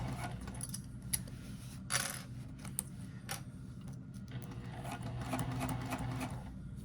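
A sewing machine bastes a seam on a triangular tetra pouch, running with a steady fast mechanical whir broken by a few sharp clicks and ticks.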